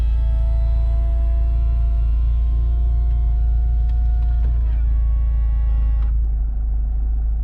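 A 2010 Mini Cooper S convertible's soft top retracts with a steady electric motor whine over a loud low idle rumble, its pitch sliding near the end before the mechanism stops.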